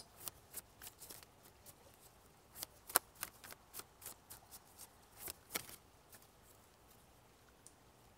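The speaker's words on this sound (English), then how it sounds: "let me pull one of the light seers cards" Light Seer's tarot cards are shuffled and pulled from the deck, giving a scattered run of soft, crisp snaps and riffles that come close and quiet, with pauses between bursts and no talking.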